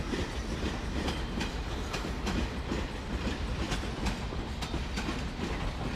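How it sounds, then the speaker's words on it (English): A London Underground tube train runs through Ealing Broadway station as a loud, steady rumble with regular clickety-clack wheel beats over the rails, heard close with no talking. "Quite like those tube trains, the ones that come on to the top line."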